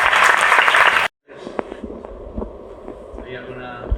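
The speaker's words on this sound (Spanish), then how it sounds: "Vamos a recibir con un fuerte aplauso." An audience at a university film-screening discussion applauds loudly for about a second before an abrupt cut, followed by faint room noise and scattered knocks.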